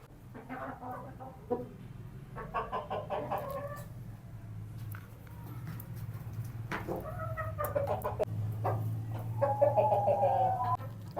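Several hens cluck in repeated bursts, close by, over a steady low hum, on a rainy day.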